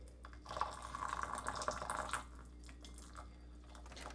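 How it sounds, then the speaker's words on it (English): Water pours in a thin, steady trickle from a gooseneck electric kettle spout, quiet and close, tapering off into faint room noise after a couple of seconds. "they say you can get more control, as Emma's demonstrating with her fancy pouring"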